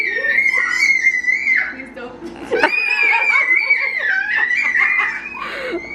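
Excited high-pitched screaming erupts at a family reunion, two long shrieking bursts mixed with laughter and overlapping voices, loud and close.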